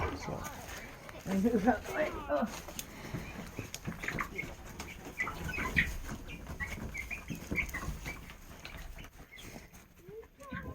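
Backyard chickens in a 4x8 coop cluck and flutter in short bursts while a person talks nearby, the birds fairly close but mixed under the voice.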